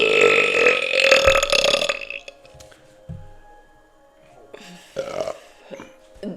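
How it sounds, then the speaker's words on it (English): A long, loud, throaty burp rolls out for about two seconds, followed by quieter shuffling and brief vocal sounds. "little baby burp for me"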